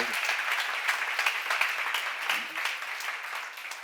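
A church seminar congregation claps together, a dense, lively burst of applause that holds steady and tapers slightly toward the end, with faint voices underneath.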